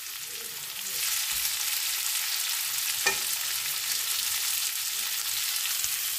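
Green chillies and onions frying in hot oil, a steady close sizzle and crackle throughout, rising slightly after the first second, with one brief stir or clink near the middle.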